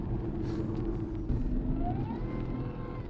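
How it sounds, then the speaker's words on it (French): The supercharged V8 of a Jaguar XJR rumbles at idle with a deep, steady low drone, a faint rising whine threading above it, heard close with no talking. "Le bruit typique du superchargeur."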